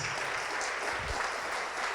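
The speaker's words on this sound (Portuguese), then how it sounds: "Vamos aplaudir mais." Church congregation applauding during a Pentecostal-style worship service, a steady wash of clapping that fills the room without any single voice standing out.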